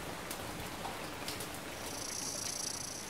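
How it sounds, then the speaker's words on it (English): Steady rain falls as a dense, even hiss at low level, continuous through the short stretch with no voices. "And it's raining."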